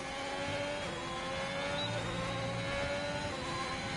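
A race car in a racing video game on its out lap at an Australian circuit, holding a steady, loud engine drone with a sustained whine and no real rise or fall over about four seconds.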